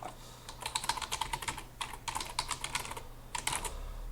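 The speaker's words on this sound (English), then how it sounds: "I have now typed the host name of the server" A host name is typed on a computer keyboard as a close, clear run of quick key clicks in bursts with short pauses, and nobody speaks.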